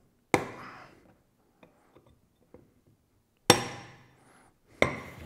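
A drift struck with a hammer against a rocker box bolt on a Harley-Davidson Iron Sportster: three sharp ringing metallic blows with decaying tails, plus a few light taps between them, close and with no talk.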